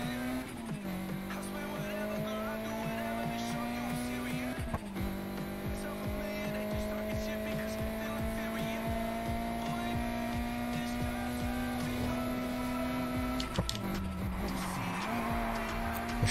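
In the racing game Need for Speed Heat, a car engine drones at steady high revs with gear-shift dips while tires squeal through a sideways drift, a continuous loud synthetic roar.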